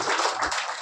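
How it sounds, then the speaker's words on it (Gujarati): Brief burst of dense applause from an audience at a village school girls' education and progress festival, a steady wash of many hands clapping at once. "પ્રોત્સાહન જોરદાર તાળીઓના ગડગડાટથી આપણે વધાવીએ"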